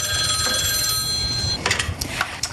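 A telephone bell rings steadily and close for about a second and a half, then cuts off, followed by a few soft clattering handling noises. No voices.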